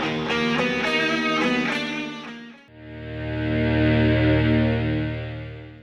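A loud, distorted heavy metal track plays over the radio, with thick sustained guitar chords that break into a droning, reverberant passage.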